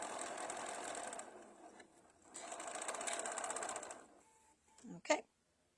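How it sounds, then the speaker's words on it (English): A sewing machine stitches a towel in two sustained runs of rapid mechanical whirring, briefly pausing between them, followed by a short voice-like sound near the end. "I'm stitching towards the lower end of the towel."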